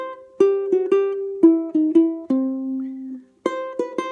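Ukulele strums triads with lower neighbor tone embellishments in a swing style, short plucked chords in a bouncy rhythm with one held chord and a brief pause before more chords, close and clear.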